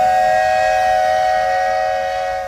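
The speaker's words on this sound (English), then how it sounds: "So, the railroad whistle," Walt Disney World Railroad steam train whistle, a loud sustained steady tone holding for over two seconds and then starting to fade, with no talk.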